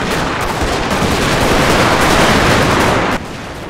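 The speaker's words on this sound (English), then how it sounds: "The men rode out to within range of the massed Zulus, dismounted at a few hundred yards, and fired one volley." A loud, dense crackle of rifle volley gunfire from massed soldiers in a Total War battle between British troops and Zulus, sustained for about three seconds before dropping away abruptly.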